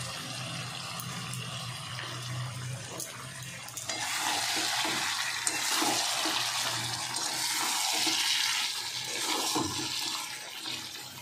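Meat sautés in oil with a pinch of sugar as it nears the end of slow frying. A soft sizzle swells into a loud, continuous hiss partway through, with faint scraping stirs underneath and no speech.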